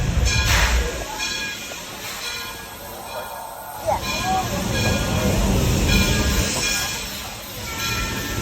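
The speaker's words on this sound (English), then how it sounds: "That's a 42-ton steam engine pulling it." A 42-ton antique steam locomotive hauls loaded rail cars around a curve on a Santa Cruz train ride, giving a steady rumbling, clattering roar with a hiss up high and faint voices mixed in.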